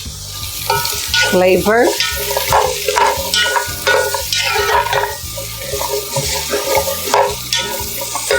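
Cardamom sizzling as it hits a hot pan while homemade vegetable broth is prepared, a loud continuous frying hiss with stirring scrapes, and a voice briefly speaking.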